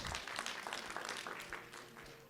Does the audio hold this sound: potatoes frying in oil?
no